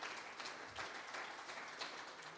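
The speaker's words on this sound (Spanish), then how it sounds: "Denle un aplauso al Señor" Faint, sustained applause from a church congregation, many hands clapping in a steady patter that sounds distant.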